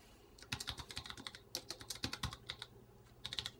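Quick bursts of computer keyboard typing as a label is entered on an ETC Ion lighting console setup, close and clear, with irregular clusters of keystrokes separated by short pauses.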